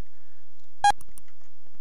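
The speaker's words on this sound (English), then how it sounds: "Uh, beep sound." A short electronic beep used as a mouse click sound effect, a single bright tone followed by faint clicks, alone in quiet.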